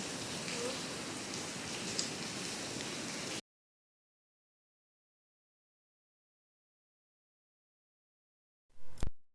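Heavy rain pours as a dense, steady hiss for a few seconds, then cuts to silence before a short loud thump at the end.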